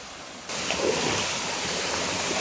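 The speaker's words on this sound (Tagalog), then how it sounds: "Malakas ang tubig ng falls." Strong waterfall pouring in a forest, a steady broadband rush of water that steps up suddenly in loudness after a brief quieter moment and then holds constant, close and unbroken, with no talk over it.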